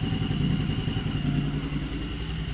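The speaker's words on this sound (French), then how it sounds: "Normalement le régime moteur va se stabiliser" Suzuki DL650 motorcycle engine, a 2014 model, idling steadily around 1300 rpm during throttle body synchronisation, a continuous close mechanical hum with light clatter and no speech.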